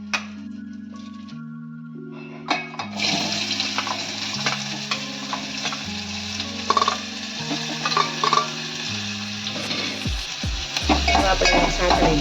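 Asafoetida, capsicum, onion, and green and dry garlic sauté in hot ghee. A few seconds of tonal music come first, then a close, continuous sizzle takes over, broken by stirring scrapes and clinks of a utensil on the pan.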